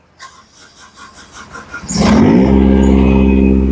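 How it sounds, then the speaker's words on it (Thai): A Kubota diesel farm machine engine cranks with rhythmic chugging, then catches and roars up into a loud, steady revving idle, very close. "ตัวนี้นะครับเหยียบสตาร์ทนะครับเร่งคันเร่ง"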